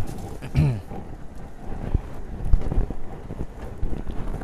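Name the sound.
approaching rainstorm with thunder and wind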